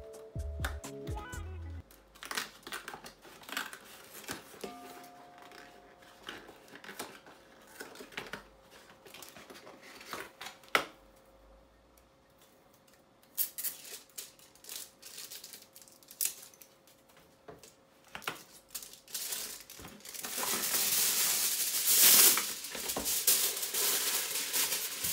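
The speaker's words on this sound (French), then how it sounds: "Donc je vais couvrir avec le papier aluminium." Aluminium foil crinkles and rustles in irregular bursts while being pressed over a pot for homemade smoked chicken, close and moderately loud, with a louder, denser crumpling stretch near the end.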